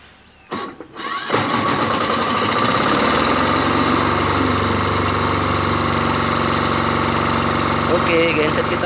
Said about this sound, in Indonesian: genset kita sudah running